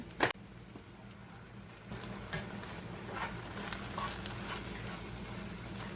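Refried beans cook in a pan with a faint, steady sizzle, broken by a sharp clink at the start and a few soft scrapes from stirring.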